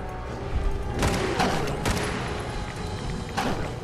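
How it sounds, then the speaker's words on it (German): A heavy gunshot in the post-apocalyptic shooter Fallout 4, with several loud blasts at about one-second intervals over steady game background noise and no clear speech. "Und ein heftiger Schuss."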